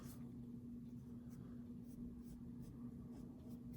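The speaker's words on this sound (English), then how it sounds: "Gonna erase this just a little bit." A pencil drawing of a snail being lightly erased, a quiet, steady scratchy rubbing that continues for several seconds, faint and close over a low background hum.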